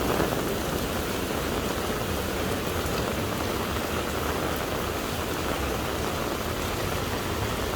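Heavy rain pours steadily onto a street in Taipei, Taiwan, a dense, unbroken hiss of drops close by, with no voices.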